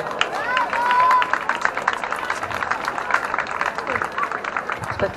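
Audience at a live concert applauding a guest guitarist, a dense, steady wash of clapping and crowd noise that carries through the whole stretch, loudest near the start.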